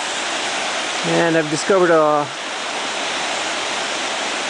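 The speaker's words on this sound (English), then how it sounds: "This is the South Fork of the Merced River." South Fork of the Merced River flowing, a steady broadband rush of water throughout, with someone talking briefly over it in the middle.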